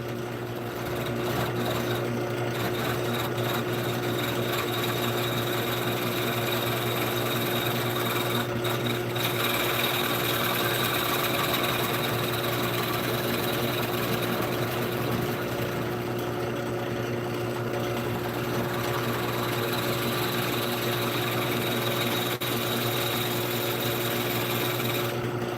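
A hollowing tool from Hunter Hollowing Systems cuts into a spinning workpiece on a woodturning lathe, a steady, dense scraping hum with a constant motor drone running unbroken and close throughout, with no talking.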